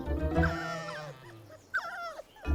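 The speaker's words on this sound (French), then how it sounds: "Où sont passés nos chiens?" Cartoon dogs whimper and yip in short, high, wavering cries, two close bursts separated by a brief pause, heard clearly without talk.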